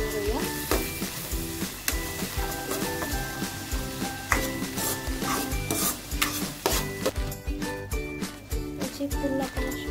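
Red chili powder is stirred into frying chole masala, giving rhythmic scraping and light sizzling strokes under steady background music.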